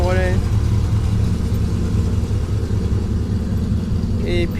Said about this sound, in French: Allez, arrive un gros pick-up.